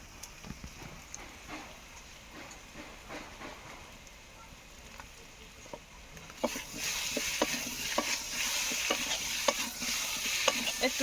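Boiled mankachu, giant taro, is stirred in a pan with spice powder, with scattered scraping stirs over a soft sizzle that grows louder and brighter halfway through as stirring picks up.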